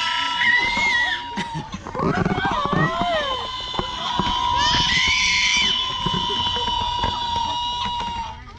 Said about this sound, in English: Are they yelling?